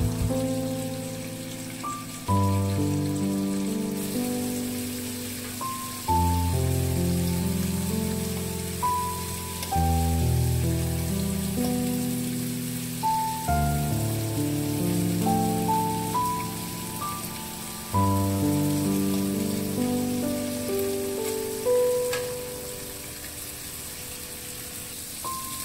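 Beef steak with carrots and green beans sizzles in a pan, a steady soft hiss running under louder background music.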